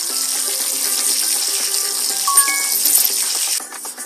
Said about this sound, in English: Is this a shower?